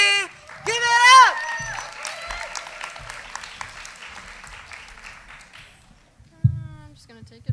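Audience applause for a poet at a spoken word event, loud clapping and cheering that fades out under voices, followed by a few scattered thumps.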